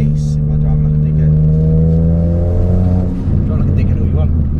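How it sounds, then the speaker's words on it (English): A Ford Fiesta ST with a hybrid turbo upgrade, 325 bhp, accelerates from inside the cabin, its engine droning and rising loudly through the revs before a brief dip at the gear change. "Ooh, I like the little bit of turbo flutter."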